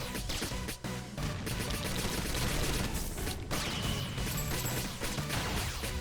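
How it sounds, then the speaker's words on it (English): Rapid game gunfire in the Rolling Star video game, six shots in a dense continuous burst of sharp cracks over an energetic music bed, loud and close with no pauses between shots. "Gonna fire 6 shots."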